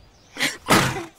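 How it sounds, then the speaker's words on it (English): A cartoon character gives a single loud sneeze, a short sharp inhale followed by a strong burst, clear and close with no other sound around it. "Gesundheit."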